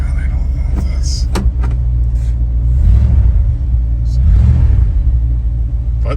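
A 1986 Dodge W100 truck idles with a steady low rumble that swells slightly a couple of times, close and loud, with a few clicks and knocks and some talking over it.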